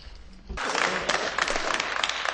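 Applause breaking out in the European Parliament chamber, a sudden burst of many hands clapping after a brief quieter moment, sustained and fairly loud across the hall.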